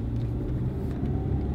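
A car with a 4-speed automatic transmission drives along, producing a steady low engine rumble and road noise from inside the cabin, with no talk.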